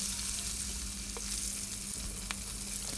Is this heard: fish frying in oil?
yes